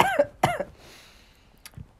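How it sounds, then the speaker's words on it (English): Two sharp, close coughs in quick succession, followed by quiet and a faint throat sound near the end. "trying so hard to hold in the cough"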